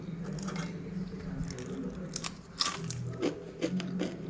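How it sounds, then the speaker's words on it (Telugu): Crunchy fried pabbillalu snack bitten and chewed up close, a series of sharp crisp crunches spread irregularly through a few seconds with no talking. "కరకరలాడుతూ పబ్బిళ్ళలు చాలా బాగున్నాయండి"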